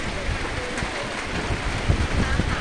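Rain returning over fields and hills, a steady broadband hiss of falling rain with some wind buffeting, continuous and fairly close, with faint voices under it.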